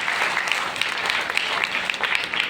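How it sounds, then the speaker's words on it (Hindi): Loud applause for a company chairman at a corporate gathering in India, dense, even clapping from a large crowd that holds steady the whole time. "एक बार इनके लिए जोरदार तालियां।"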